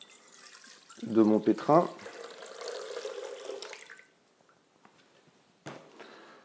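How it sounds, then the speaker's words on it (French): Water, 387 g of it for Neapolitan pizza dough, pours into the bowl of a kneading machine in a short gurgling splash, then a softer trickle, while a person speaks, followed by quiet and a faint knock. "je commence par verser mes 387 g d'eau dans le bol"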